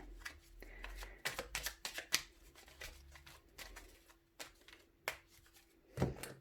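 A deck of tarot cards is shuffled and cut by hand, a quick run of crisp riffling snaps and soft slides, close and fairly quiet, ending with a brief tap.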